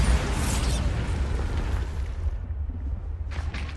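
Bombarda blasting spell explosion in Hogwarts Legacy, a heavy booming burst that rumbles and fades over a few seconds, with a brief swish near the end.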